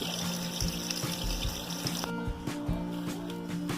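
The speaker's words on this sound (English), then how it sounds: "First thing you do is clean your ribs thoroughly." Raw baby back ribs are rinsed under a running tap, the steady splashing stream broken by several dull knocks and shifts as the rack is handled in the sink.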